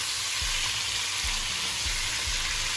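Garlic and a vegetable mix sizzle loudly in a beef stew pan, a dense, even frying hiss with a few soft low thumps of stirring, close and without voices.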